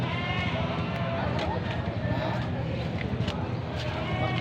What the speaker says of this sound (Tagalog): mga kambing na ito, galing ho ito sa iba't ibang farm na alaga ng mga tao, mga backyard